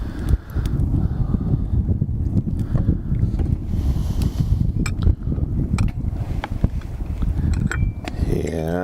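Steady, loud wind blows outdoors and buffets the microphone with a continuous low rumble and occasional gusts, with no speech heard.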